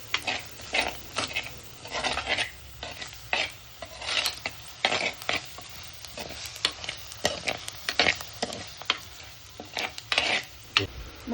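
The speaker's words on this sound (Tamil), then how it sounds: "2 டேபிள் ஸ்பூன் மிளகாய்த்தூள், 2 டேபிள் ஸ்பூன் மல்லித்தூள் இதெல்லாம் ஆட் பண்ணி மசாலாவை நல்லா பச்சை வாசனை போகிற அளவுக்கு வதக்கிக்கோங்க." Masala with chilli powder and coriander powder is sautéed for a Kerala-style fish curry, with repeated rhythmic scraping and rasping of a spoon stirring the pan over a soft frying hiss, close and alone.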